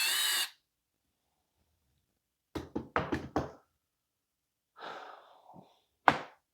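A cordless drill with a nearly dead battery struggles to drive a screw into a shutter lamp, giving a brief strained motor whine followed by quiet clicks and knocks, then another short, weak burst of effort.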